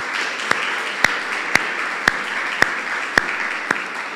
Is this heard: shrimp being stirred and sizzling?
no